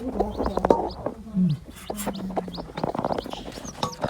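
A hen clucking on a poultry farm, with repeated short clucks and soft calls at close range, and other bird chirps scattered around it.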